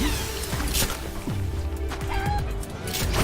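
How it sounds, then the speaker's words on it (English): A chicken clucks in a video game with Battle Chicken, short harmonic squawks and clucks repeating over a busy layer of game sounds and effects. "It's a fucking chicken."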